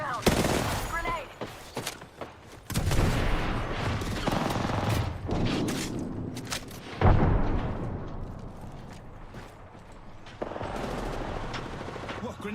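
Gunfire in the battle royale shooter Apex Legends: rapid automatic bursts and sharp shots in irregular volleys, some heavier blasts, mixed with game sounds and nearby talk.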